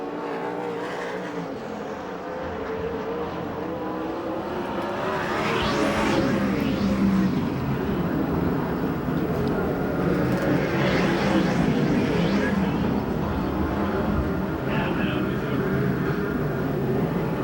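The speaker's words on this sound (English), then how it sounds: "And Hilberg's car just comes off turn 2 big time." USAC/CRA sprint cars race on the dirt track at Perris, California, their engines roaring continuously and swelling as cars sweep past through the turns, loud and close, with an announcer's commentary running over it.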